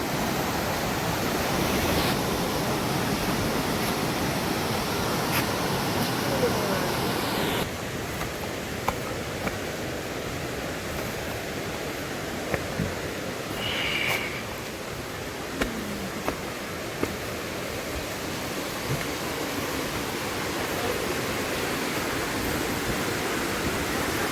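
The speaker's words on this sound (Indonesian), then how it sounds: "ini di aliran sungai yang seperti saya bilang tadi ya" A river stream at a budget camping ground in Pacet, Mojokerto rushes steadily in a continuous broadband roar. It is loud and close, with a few faint clicks and knocks, and no one talks.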